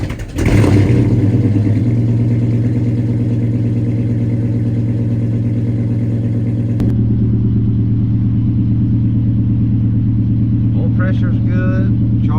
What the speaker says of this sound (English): let's see if the old Valiant will crank up